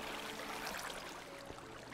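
Water running through a ravine in a video game, a steady broadband rushing and trickling that fills the whole stretch at moderate level with no voices over it.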